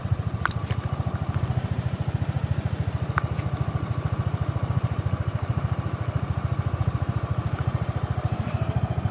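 A Kymco Dollar 150 motorcycle engine idles nearby with a steady, rapid low putter, even and unbroken for about nine seconds, and no voices over it.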